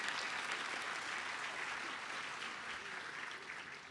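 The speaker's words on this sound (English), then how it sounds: "You can applaud that." Audience applause at a University of Delaware doctoral hooding convocation, a broad steady wash of many hands clapping, moderately distant and sustained without a break.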